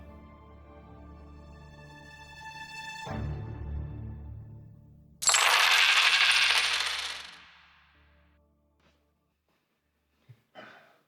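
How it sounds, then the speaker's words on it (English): Silver coins are thrown down onto a temple floor as part of a Good Friday Passion play, landing in a loud burst of clinking and scattering that rings out and fades, followed by a couple of faint later drops. "Judas threw the silver coins into the temple and left."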